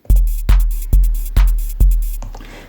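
Korg Volca Beats drum machine pattern of kick, closed and open hi-hats and hand clap for 90s uplifting trance: four evenly spaced booming kicks with crisp hats and claps on top, loud and alone, ending in a fading hat.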